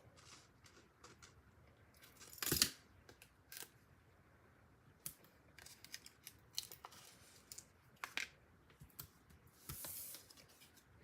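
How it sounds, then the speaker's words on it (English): Scissors snip paper in a few scattered cuts, with quiet rustling and handling between them, close by and otherwise quiet. "Scissors."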